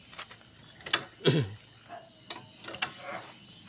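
A Yamaha Vixion motorcycle engine is turned over by hand with a tool, giving several close ratcheting clicks and metallic knocks at an uneven pace. Muffled talk is heard briefly.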